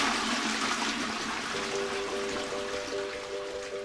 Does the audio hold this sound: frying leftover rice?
no